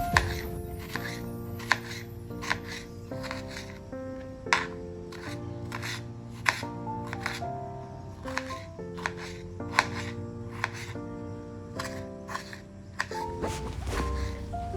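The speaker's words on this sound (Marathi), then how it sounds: "आता मी टोमॅटोसुद्धा बारीक चिरून घेणार आहे" A knife finely chops tomato on a board, giving irregular sharp taps and thuds spread across the clip under steady background music.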